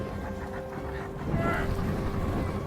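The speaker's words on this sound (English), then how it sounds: "Now you have to start the engine again." A boat engine drones steadily on a river while fishing for Nile perch, with wind noise and water around it, the hum growing a little louder midway through.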